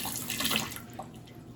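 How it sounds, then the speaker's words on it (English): Tap water running briefly as a spoon is rinsed under it in a kitchen sink, a soft splashing hiss that fades within a second, faint and close. "Let me rinse off my spoon."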